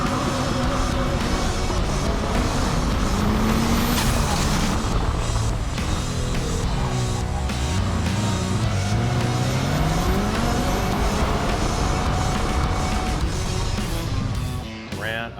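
A race car circles Road America on a hot lap, its engine loud and close with rising and falling revs through the gears, sustained high-speed roar, and a brief fade near the end.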